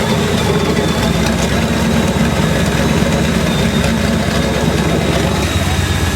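A car engine idles loud and steady through a Dynomax stainless straight-through muffler built with two stainless layers and an air gap, a continuous low rumble heard close with no talking.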